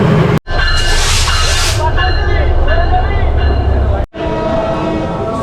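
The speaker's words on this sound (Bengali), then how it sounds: "এইটা হচ্ছে ট্রেন মাত্র আসছে" A train pulls into a station in Bangladesh with a loud, low rumble and rolling wheel noise that cuts out briefly twice, and a horn-like tone rising near the start.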